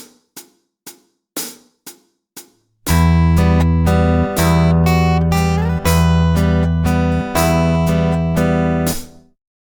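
Plucked classical guitar notes in a slow, spaced lead-in, then a sustained chordal passage with a steady bass and melody from the Spanish waltz Vals by Bartolomé Calatayud, played alone without any voices.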